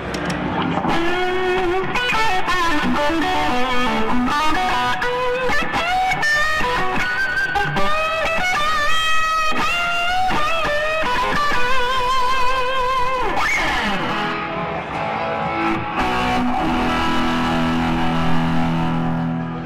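Heavily distorted electric guitar, a Michael Kelly through a Fuchs tube amp's dirt channel, plays a busy riff with bends and sustained notes, loud and continuous, ending on a ringing chord.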